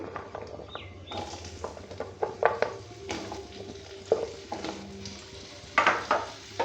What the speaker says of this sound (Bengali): আলুগুলো একটু ভাজা ভাজা করে নেবো